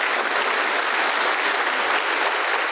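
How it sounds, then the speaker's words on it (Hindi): Steady, dense audience applause at an Indian talk, a full crowd clapping continuously and evenly at close range with no voices over it. "ताली मत बजाइए"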